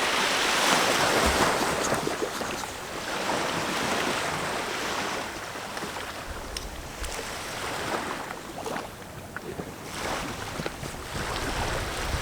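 Steady surf washing onto a beach under grey skies, a continuous broadband roar of breaking waves with gusty wind buffeting the microphone throughout.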